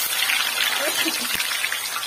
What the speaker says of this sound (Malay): Okey, kita goreng lagi kali kedua.